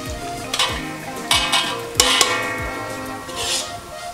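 Chili and turmeric powder fry gently in a pan with a soft sizzle, broken by a few clinks and scrapes of a utensil stirring against the metal.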